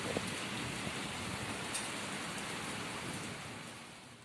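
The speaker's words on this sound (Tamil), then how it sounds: "பாருங்க எப்படி மழை பெய்யுதுன்னு" Steady rain falls outdoors, a soft continuous hiss of drops on surfaces that holds evenly throughout and eases slightly toward the end, with no voices.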